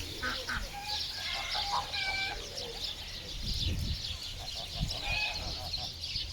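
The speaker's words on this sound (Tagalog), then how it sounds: "Ito mga gansa, ayan." Geese and other fowl calling at a small farm animal area, with scattered honks and clucks over steady background noise and low rumbles, fairly continuous throughout.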